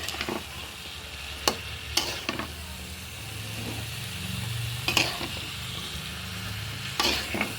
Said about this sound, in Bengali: দেখুন, আমি নারকেলের সাথে কচুর বইটা কষিয়ে নিচ্ছি।